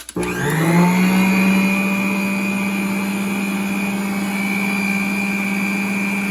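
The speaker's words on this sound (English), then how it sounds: "Next thing to do is just beat your butter." A regular hand mixer beating butter for homemade cake pops, starting with a click and spinning up into a loud, steady electric whine and whir that holds for several seconds.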